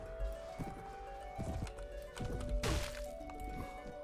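A horse in Mount and Blade: Warband, Prophesy of Pendor mod, moving at a gallop, rhythmic hoof thuds in clusters with a sharp crack of combat midway, fairly close and without talk.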